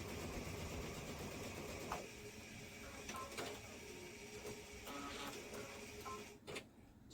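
A sewing machine stitching a quilt block from corner to corner, running as a faint, steady mechanical whir broken by a few soft clicks and knocks.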